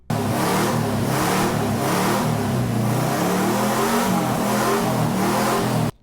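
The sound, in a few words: 1969 Saab 96 engine running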